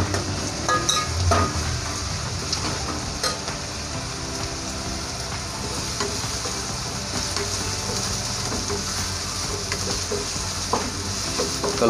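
Onions frying in a pan for chicken pulao, a steady broadband sizzle with stirring scrapes running continuously and close for the whole stretch, no voices.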